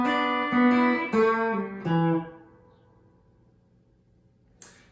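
A guitar plays the intro riff of a song: a few plucked notes stepping through a short bluesy phrase, then ringing out and fading to near silence before a small click.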